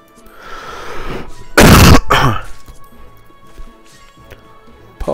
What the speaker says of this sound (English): Apologize for all the coughing and stuff.